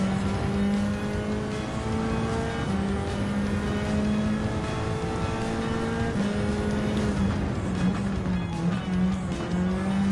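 A Group 4 race car in Gran Turismo 7 roars steadily at high revs through a race, its engine tone rising and dropping with gear shifts and braking, loud and continuous with no talk.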